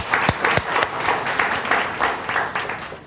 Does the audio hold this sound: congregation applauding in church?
yes